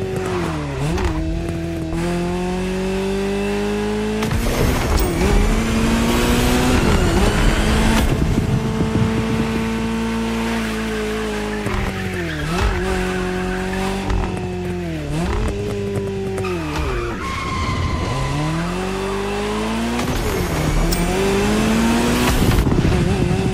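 A Ferrari engine revs hard with tyre squeal and skidding in The Crew Motorfest racing game, loud and continuous with pitch rising and falling through repeated gear changes over music-like tonal layers.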